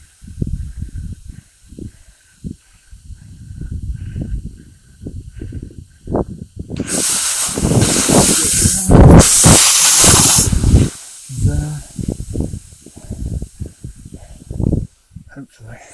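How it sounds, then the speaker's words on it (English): Snow avalanche pouring down the backside couloir of Mt Olympus near Arthurs Pass, New Zealand: a loud broadband rushing roar builds sharply midway and then fades, with talk and breathing near the start and end. "A runaway avalanche."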